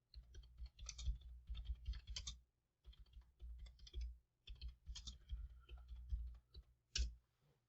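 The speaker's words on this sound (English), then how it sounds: "I'm typing them in now." Rapid keyboard typing in bursts, close and fairly quiet, with brief pauses between runs of keystrokes.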